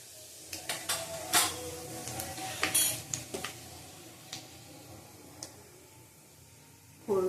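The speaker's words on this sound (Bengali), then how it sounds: "ফোড়নটা একটু ভাজা হোক" Panch phoron spices fry in a pan for chicken kosha, a faint hiss under scattered, sharp metallic clinks and scrapes of a spoon stirring against the pan, with quiet gaps between bursts.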